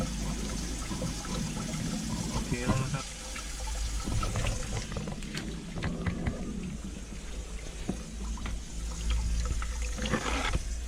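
Hose water forced through the radiator of a Toyota Sport Cruiser during a coolant flush, a steady rushing gush and splash running the whole time with a constant low hum beneath it.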